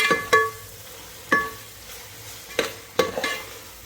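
Biryani masala is stirred and fried in a pan, with a few sharp spoon knocks and scrapes against the metal at uneven intervals over a low sizzle, close by and with no speech.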